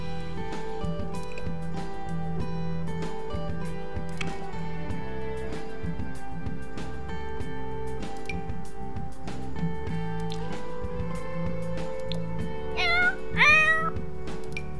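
A cat in The Sims video game meows repeatedly over steady game music, with a louder cluster of meows near the end and no talking.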